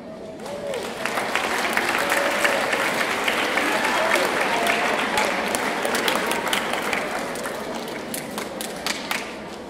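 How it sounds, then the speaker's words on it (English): School awards ceremony audience applauding students, dense sustained clapping from a crowd swelling quickly and holding steady before tapering off near the end, with faint voices mixed in. "Can you please give the selected students a round of applause?"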